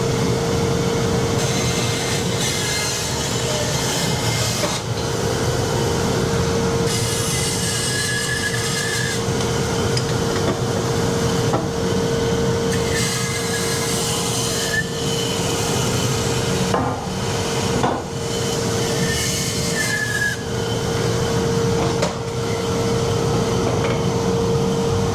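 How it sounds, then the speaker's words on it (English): A bandsaw rips cherry and maple boards lengthwise in a workshop, a continuous loud whirring hum with a steady whine underneath and slight shifts in tone as the cut progresses, with no pauses. "So now I gotta get these cut up lengthwise so I can glue them together."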